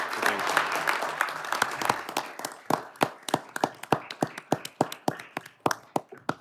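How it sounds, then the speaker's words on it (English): A council meeting crowd gives Chief Yehlik a round of applause: dense clapping at first that thins into a handful of distinct, slowing claps before fading out. "a round of applause for Chief Yehlik"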